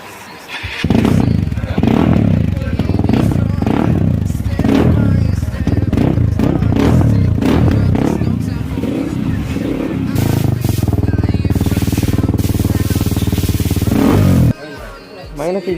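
A Hero Xpulse 200 4V motorcycle's exhaust rumbles and revs close by, blipping in uneven bursts, then holds a steadier drone before cutting off sharply near the end, with a voice talking intermittently over it.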